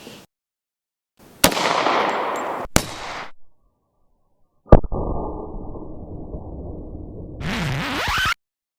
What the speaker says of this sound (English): I'm gonna try to shoot just the right of where I shot last time